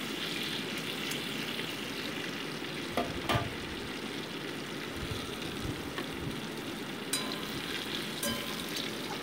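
Whole cumin seeds frying in hot mustard oil after bay leaf, a continuous close sizzle with a few sharp crackles and stirring clicks, no voices over it.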